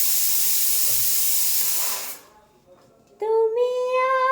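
Pressure cooker steaming hard while boiling eggs and potatoes, a loud steady hiss for about two seconds that cuts off, followed by a quiet pause and then a sudden bright whistling tone.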